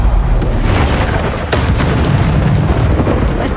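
Bombarda explosion spell in Hogwarts Legacy, a loud, heavy booming blast with rumbling low-end debris that rolls on continuously, with a sharp burst standing out partway through.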